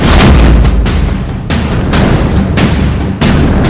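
Repeated heavy booms from an Israeli air strike bombardment in Beirut, Lebanon, rolling one into the next across the whole stretch, loud and dense with deep low rumble and no talk.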